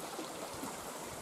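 A stream flows out of sight beneath tall, dense vegetation on the path near the Monardo waterfall, giving a steady, soft, continuous wash of running water with no voices.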